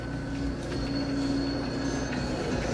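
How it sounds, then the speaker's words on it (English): A subway train rumbles along elevated tracks with a steady low roar and a faint high metallic whine from the wheels, continuous and moderately distant, with no voices. "That's a subway."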